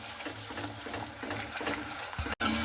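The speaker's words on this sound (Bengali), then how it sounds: "মশলাটা আমি এখানে খুব ভালো মতো করে কষিয়ে নিচ্ছি" Spice paste is stir-fried in a pan for a vegetarian dish, with a steady low sizzle and rhythmic scraping and clacking of a spatula against the pan, a brief dropout near the end, and no voices.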